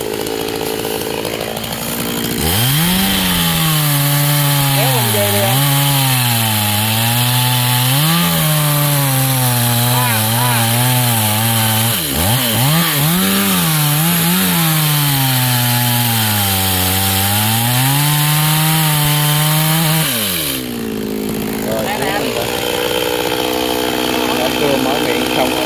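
Chainsaw cutting through the trunk of a golden wattle tree, a loud, sustained engine whine that rises and dips repeatedly as the blade bites into the wood, then cuts off abruptly near the end.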